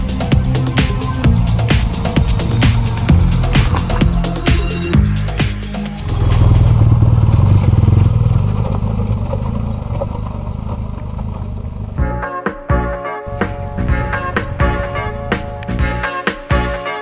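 A big BMW GS adventure motorcycle labours up steep loose gravel in Tanzania, its engine note steady and close with shifting revs and clattering mechanical noise, changing character partway through.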